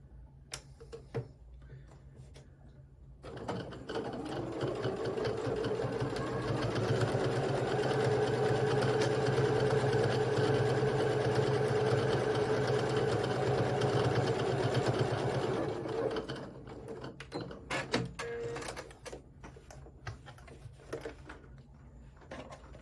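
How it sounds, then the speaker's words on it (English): A sewing machine stitches quilting lines on a small fabric bag, whirring in a steady, close run for about twelve seconds before stopping, with quieter handling sounds around it. "Okay, let's go ahead and sew this."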